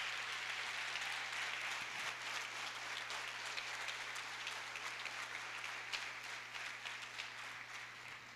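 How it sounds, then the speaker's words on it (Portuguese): A crowd applauding steadily at a church service, sustained clapping at moderate distance with a low hum underneath, no pauses. "Você pode aplaudir o Senhor?"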